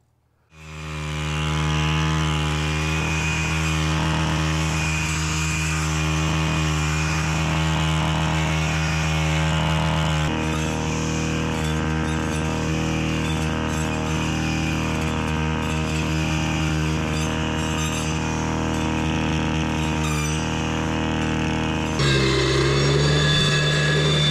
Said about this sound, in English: let's try out this this chisel tooth cutting blade